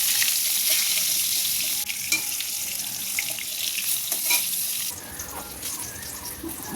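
Eggplant slices fry in a pan as they are turned, giving a steady, close hiss and sizzle throughout.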